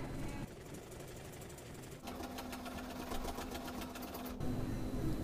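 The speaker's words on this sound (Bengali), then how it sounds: "এখন আমি কামিজের নিচের পাটটাকেও 1 ইঞ্চি করে সেলাই করে দিব" A sewing machine stitches the hem of a kameez in rapid, even bursts, the needle's fast chatter starting and stopping close up, loud against a quiet room.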